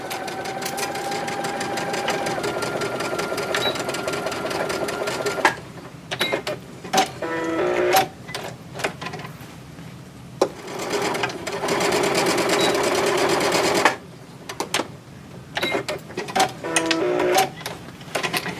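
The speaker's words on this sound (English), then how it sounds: "I'm just going to place them on my sewing machine. So I will sew through the first row" A domestic sewing machine stitches through rows of a baby quilt, its rapid mechanical whirring running in long close-up bursts broken by brief pauses and small clicks as the fabric is repositioned.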